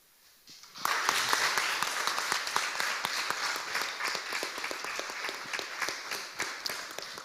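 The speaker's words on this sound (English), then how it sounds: "No, but you were applauding the question." Audience applause in a debating hall after a question, dense clapping that swells in after a quiet start and holds steady and loud throughout.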